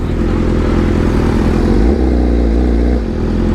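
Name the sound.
motorcycle engine revving during a wheelie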